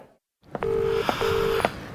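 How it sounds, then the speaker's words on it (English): A telephone being dialled for a call: a short click, then two long steady tones broken by sharp clicks, close and clear with no talking. "Come on, Natalie. This isn't like you not to pick up"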